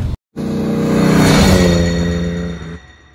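A 1996 Porsche 993 Turbo tuned to 525 PS, its flat-six engine catching after a brief silence and swelling into a loud, steady rev that peaks and then settles, heard alone close up.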